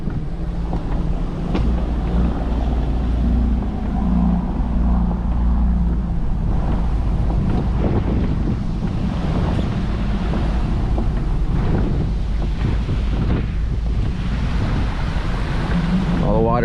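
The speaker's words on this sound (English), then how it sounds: "Look at all this water spilling over." Hurricane Ian's storm surge spills floodwater over land while strong wind blows. A loud, steady roar of rushing water and wind buffeting the microphone runs without a break throughout.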